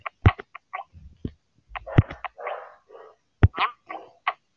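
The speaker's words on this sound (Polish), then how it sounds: "Mój pies szczeka." A dog barks in short, sharp bursts at irregular intervals, fairly close, with quiet gaps between the barks and no talking.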